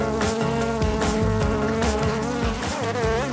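Honeybees in an opened hive during early-season work at a dacha apiary, after the winter nest was shifted toward the warm side, produce a loud, continuous close buzzing drone with many overlapping wing tones.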